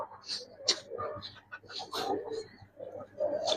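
Pigeons at a pigeon fair coo and call in short bursts, fairly close, with other bird noises mixed in and people talking around them.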